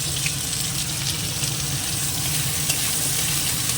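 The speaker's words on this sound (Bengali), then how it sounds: "পেঁয়াজটা একটু হালকা ভাজবো" Onion fries in a pan with dried chilli, giving a steady, dense sizzle that hisses evenly throughout, close and loud, with no voices.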